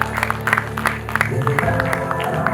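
Crowd applause at a trans achievers awards ceremony as the winner Jennifer is called to the stage, scattered clapping mixed with talking.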